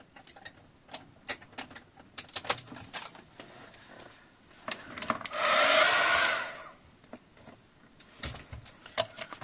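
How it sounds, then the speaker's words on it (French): A heat gun blows hot air over holographic foam paint to dry it, a steady loud whoosh rising for about two seconds mid-clip amid scattered light ticks and clicks. "On va peut-être le chauffer au heat gun pour que ça sèche"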